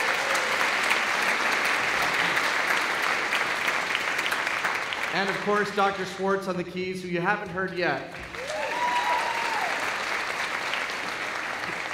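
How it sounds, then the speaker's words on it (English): A concert audience applauds a string quartet at a high school choral holiday concert, steady dense clapping filling the hall throughout while someone speaks over it partway through. "Can we give them a round of applause?"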